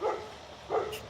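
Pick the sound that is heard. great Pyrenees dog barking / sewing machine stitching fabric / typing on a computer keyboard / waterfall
great Pyrenees dog barking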